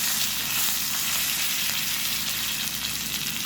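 Curry leaves and a broken dried red chili crackling in hot tempering oil for curd vadas, a loud, continuous sizzle with fine spattering throughout.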